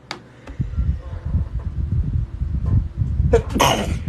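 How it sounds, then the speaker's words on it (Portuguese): A man sneezes near the end of a short stretch of low background rumble and noise, one sharp burst after a quick intake. "Tava espirrando aqui."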